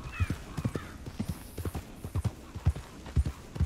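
Horse hooves clip-clop in an irregular walking rhythm in the video game Red Dead Redemption 2, fairly close and quiet, with a faint neigh early on and no talk.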